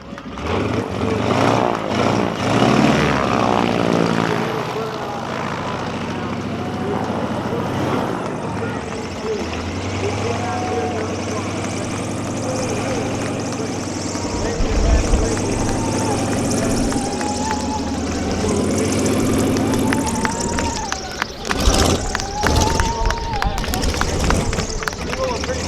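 A Sukhoi Su-31 aerobatic plane taxis in at an air show with a steady propeller and engine drone, while an announcer talks over it the whole time.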